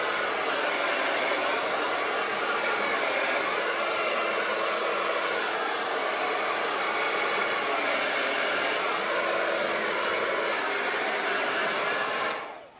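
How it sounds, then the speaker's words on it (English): A handheld blow dryer roars loudly and steadily at close range, a broad whooshing airflow drying hairspray on wavy hair, holding constant for about twelve seconds before abruptly cutting off at the end. "I'm going to use my blow dryer just a little bit"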